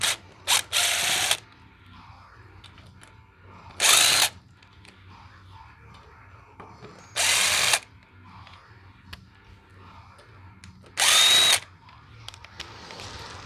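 A power drill backs out stainless steel square-head screws from an aluminum extension cord reel, whirring in five short, loud, close bursts separated by quiet pauses and faint handling noise.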